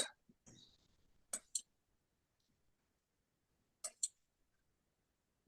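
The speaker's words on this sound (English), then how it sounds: "Maybe right click it" A computer mouse clicks in two quick double-click pairs, crisp and close but fairly quiet, separated by near-silence, with a brief murmur of a voice at the start.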